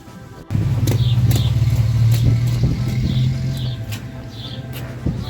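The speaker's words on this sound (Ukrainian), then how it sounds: "То машина проїхала" A car rolls past on a rural village road after a rainy night, its engine hum rising suddenly and then fading slowly, with birds chirping and pigeons cooing in the background.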